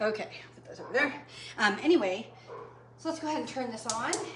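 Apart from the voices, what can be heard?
No everyday noise stands out behind the speech.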